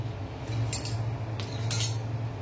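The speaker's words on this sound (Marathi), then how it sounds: "सारण आहे ना, हलवून घे चमच्याने." A spoon stirs a sweet filling in a home kitchen, giving a few light metallic scrapes and clinks against the pan over a low steady hum, close and fairly quiet.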